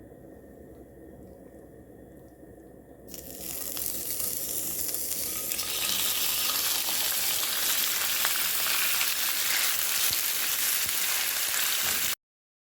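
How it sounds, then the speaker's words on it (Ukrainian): Meat sizzles loudly in hot oil in a pan; quiet background at first, then a sudden steady crackling fry that continues without pause. "розігріту сковорідку викладаю м'ясо, у мене тут олія"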